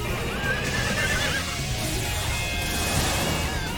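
A horse in the video game Mana Khemia gives a loud, close whinny over game music, followed by snorting and hoof clatter amid busy in-game sound effects.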